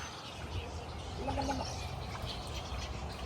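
A bird near a coastal egret nesting area gives a short wobbling, gargling coo over steady outdoor background noise, faint and brief in the middle.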